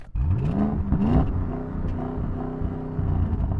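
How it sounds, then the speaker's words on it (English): A car engine revs up close against a soft limiter, rising and falling in pitch with a loud, throaty rumble, no talking. "Anyway, yeah, I'm revving."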